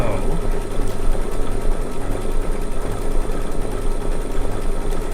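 A sewing machine stitches steadily through a long quilting stitch-out, its hum and rapid needle chatter continuous and fairly loud with no pauses.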